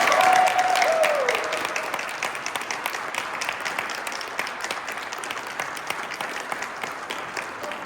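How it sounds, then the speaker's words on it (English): An audience applauds cadets at a firefighter cadet academy graduation, a steady wash of clapping that swells loudly at first and then settles into sustained, slightly softer applause. "Let's give a round of applause."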